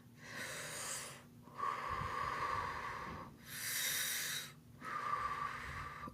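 A person demonstrating shallow, rapid chest breathing as in hyperventilation: three long, airy breathy passages separated by short pauses, close and fairly soft, with no talking.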